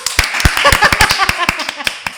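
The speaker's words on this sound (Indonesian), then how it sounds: "Tepuk tangan dulu buat aku" Hands clap in a loose run of sharp, separate claps from a small group at a casual music talk session, close and fairly loud, with a little talk mixed in.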